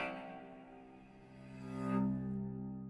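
A sustained cello texture swells slowly, rich in low harmonics, with a louder bloom near the two-second mark before it settles, alone and fairly soft.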